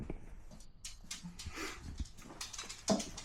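Dogs shuffle, pant and whimper faintly nearby, with a few soft thumps and a short louder yelp near the end.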